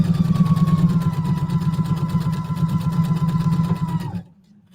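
Sewing machine stitching a zipper seam on a bouncy table, a close steady rapid whirring hum with even stitch pulses that runs for about four seconds and then stops.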